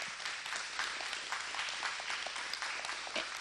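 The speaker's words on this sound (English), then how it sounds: "I'd like to give all of our students here a great round of applause." Audience clapping for students at a school event, dense steady applause from many hands lasting the whole moment with no voices.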